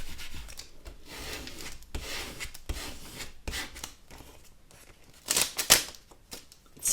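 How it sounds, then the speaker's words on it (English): Transfer tape being burnished over permanent vinyl on an acrylic bookmark blank: close, steady rubbing and rasping scrapes in uneven strokes, with a few sharper, louder passes near the end. "Going to give it a good burnish."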